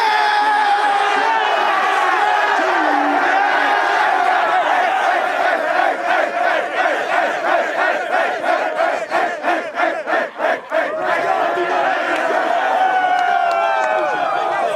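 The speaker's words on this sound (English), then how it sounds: "Ladies and gentlemen, a round of applause for your" A football crowd at the Football Canada Cup gold medal game cheers and shouts in a loud, sustained roar, with rhythmic group clapping breaking through midway before the noise settles back into a steady crowd wash.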